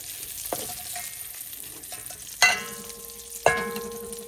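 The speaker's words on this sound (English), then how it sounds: "I'm going to add my chicken in here to get it cooked." Chicken pieces frying in a pan for New Orleans gumbo: a constant low sizzle broken by a few sharp ringing clanks of a utensil striking the pan, close and without talking.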